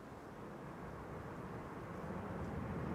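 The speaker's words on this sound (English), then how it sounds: "this is an E2 Embraer 195 KLM 1139 to Dublin." A KLM Embraer E2 195 jet bound for Dublin at Amsterdam Schiphol roars steadily, a broad continuous rumble that swells slightly louder over a few seconds as it passes nearby.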